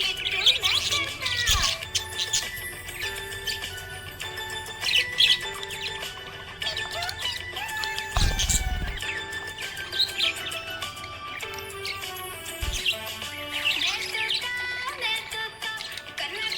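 A budgie chirps and squawks in a run of bright, rapid tweets and whistles, close and fairly loud, over a background of sung music.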